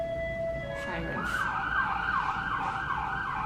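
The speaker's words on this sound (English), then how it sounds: "the sirens are on pretty much all the time" Emergency vehicle sirens wail through New York City streets, a rising and falling electronic tone repeating in quick cycles over steady traffic noise at a moderate distance.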